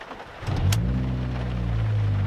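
A car engine with the N249, N112 and secondary air injection components deleted cranks briefly and catches, then settles into a steady, close, rumbling idle.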